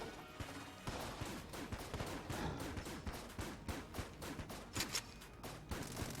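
A gun firing rapidly in the video game Enter the Gungeon, a fast, steady stream of quiet, crisp shots with a few louder hits mixed in across the whole stretch.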